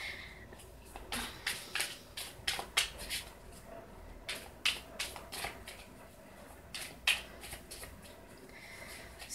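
Thick but flexible tarot cards being shuffled in quick riffling bursts, with short pauses between rounds, close and fairly quiet.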